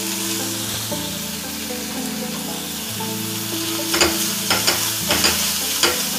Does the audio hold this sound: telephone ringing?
no